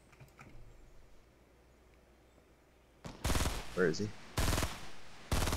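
Fortnite minigun fire bursts out loud and close in the second half, several sustained rapid volleys with brief gaps, after a quieter stretch where a voice speaks.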